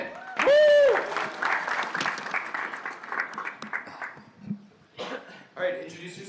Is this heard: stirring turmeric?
no